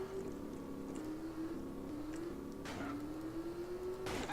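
FCR motorbike engine in GTA San Andreas, a steady droning hum with its pitch slowly climbing as the bike accelerates, heard up close over the whole stretch without music or speech.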